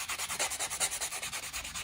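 Rhythmic rubbing of a white 100-grit sanding block over acrylic nails, a steady back-and-forth scratch repeating about eight times a second, close and fairly quiet with no talking.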